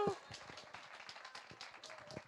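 An audience at a Gospel of John lecture claps to welcome the lecturer, a short, quiet burst of scattered hand claps after a brief voice at the start.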